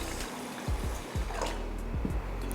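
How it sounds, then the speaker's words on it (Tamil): Green gram and rice being washed by hand in a vessel of water, with steady close sloshing and trickling and a few soft low thumps as the grains are stirred and rinsed. "இப்போ இதை கழுவிட்டு நம்ம ஊற வச்சிடலாம்"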